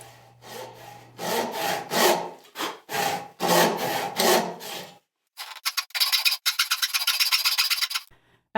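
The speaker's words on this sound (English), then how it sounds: "he's cutting the actual bridal part out of the shorter pieces of this frame" A handsaw cutting a bridle joint into 2x6 lumber, heard as steady back-and-forth rasping strokes in loud rhythmic bursts, a brief pause, then faster, shorter strokes.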